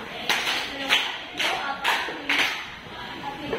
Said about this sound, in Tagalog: Bigyan natin ng 5 palakpak.